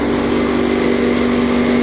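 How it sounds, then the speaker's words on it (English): A silo filler blower runs steadily with its auger and fan turning, a loud, constant mechanical drone with a strong hum and no pauses. "there's an auger underneath that thing there that's going around"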